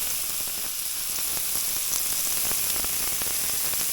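Button mushrooms fry in hot oil in a pan for a tomato and mushroom sauce, giving off a steady, dense sizzle that continues unbroken from start to finish with no talking.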